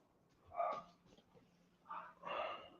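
Two French bulldogs give a few faint, muffled barks and whimpers in the background, in short separate bursts with quiet between them.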